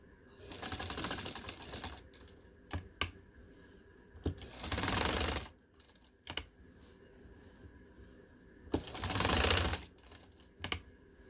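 A sewing machine stitching a piping strip onto a garment piece runs in three short bursts of rapid mechanical clatter, separated by quiet pauses with small clicks, close and alone without talking.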